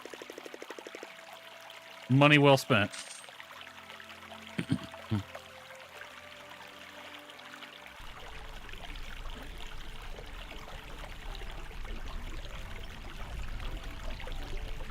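Bubbling, trickling hot spring water in the Portia video game, a steady soft stream that starts partway through and continues to the end, following brief talk early on.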